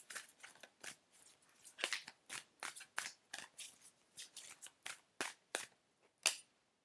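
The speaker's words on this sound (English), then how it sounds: "Let's shuffle these cards." A deck of tarot cards being shuffled, giving a run of crisp, irregular riffling and snapping bursts at close range, quiet and with no talking over it.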